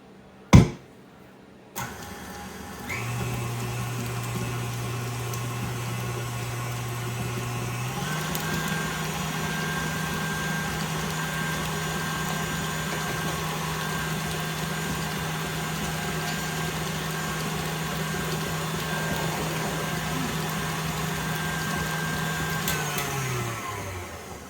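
Electric mixer whirring through pumpkin and peanut butter dog cake batter, a steady motor hum that starts after a couple of sharp knocks, rises in speed partway through and runs continuously before cutting off.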